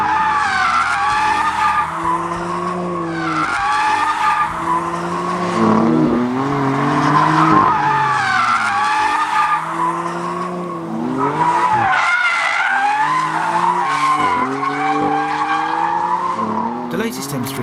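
A twin-turbo BMW M3 driven hard, tyres squealing loudly and continuously with wavering pitch as the car slides, the engine note underneath, close and intense throughout.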